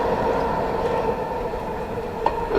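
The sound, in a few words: metro train running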